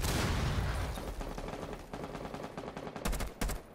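A breaching charge goes off in Rainbow Six Siege, a loud blast whose rumble decays over a couple of seconds, followed by sharp gunfire cracks near the end.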